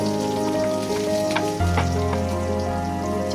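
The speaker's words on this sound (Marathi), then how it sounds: "कट केलेल्या मिरच्या छान भाजून घेऊया" Cut green chillies fry in hot oil with cumin, mustard seeds and asafoetida, making a steady, dense sizzle and crackle that holds at the same level throughout, close up with no voices.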